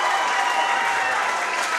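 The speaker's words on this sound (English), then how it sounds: "I'm going to let you guys listen to this crowd just for a second" A crowd at a high school district championship basketball game cheers and applauds, with steady dense clapping and roaring that carries unbroken throughout.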